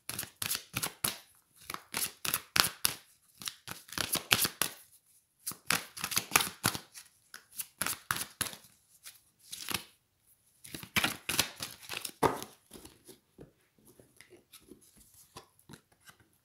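Tarot cards riffled and shuffled in repeated quick bursts of papery flicks, with short pauses between rounds, close and fairly quiet.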